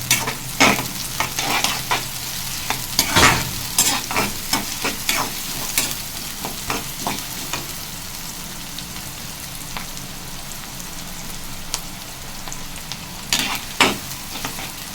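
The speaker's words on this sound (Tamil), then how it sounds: "வெங்காயம் நல்லா வதங்கட்டும்." Onions sauté in a pan for a chicken liver fry, giving a steady close sizzle broken by frequent scraping and clattering stirs, with no talking.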